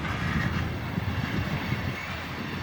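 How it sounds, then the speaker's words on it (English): The tail of a long BNSF oil tanker freight train in Piscataway rumbles past with a continuous low roar and clatter of rolling cars, steady and moderately close, without speech. "I was thinking this train was gonna take forever."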